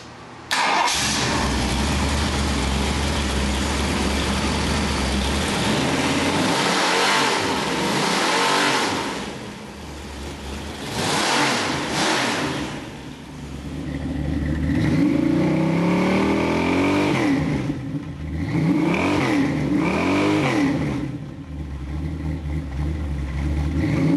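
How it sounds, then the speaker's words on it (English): A Ford 514 crate engine with stock exhaust manifolds fires up on a demonstration stand, then idles loudly and revs repeatedly in rising and falling surges, alone without talk. "I'm going to fire this up and give you a little run demonstration."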